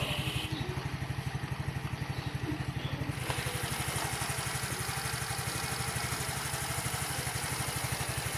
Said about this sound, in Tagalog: Napainit ang motor.